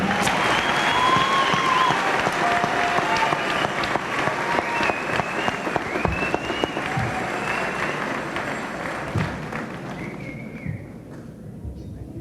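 A large crowd at a 1993 high school commencement claps in a long, steady round of applause, with scattered whistles and cheers rising above it before it tapers and fades near the end.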